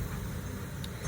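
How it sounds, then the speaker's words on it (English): A truck passes somewhere outside a house, heard as a steady low engine rumble that continues through the whole moment at a moderate level with no talk over it. "A truck passing, if you hear any noise in the background."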